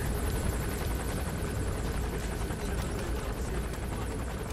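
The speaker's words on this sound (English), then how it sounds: "see the helicopters up there." A helicopter in Metal Gear Solid V hovers overhead with a loud, steady rotor thump and engine roar that fills the scene, with no talk over it.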